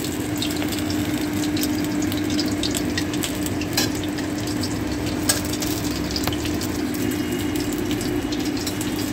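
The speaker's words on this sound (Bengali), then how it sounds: "বেশ মুচমুচে করে এরকম ভেজে নিয়েছি।" Fish pieces coated in cornflour and gram flour fry in hot oil, giving a steady, even sizzle with small crackles that continues unbroken and without speech.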